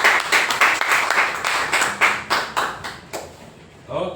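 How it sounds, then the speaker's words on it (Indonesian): A classroom of students claps for a classmate named Andika, a burst of quick, uneven hand claps that tapers off near the end as a voice begins. "tepuk tangan untuk Andika lagi sekali"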